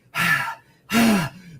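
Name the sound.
man imitating heavy breathing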